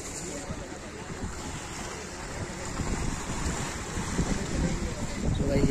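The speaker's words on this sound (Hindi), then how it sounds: "तो भाई यहाँ पर समुद्र है" Sea waves wash steadily at a seaside shrine, a continuous broad roar of surf with wind buffeting the microphone, growing slightly louder toward the end, with no voices.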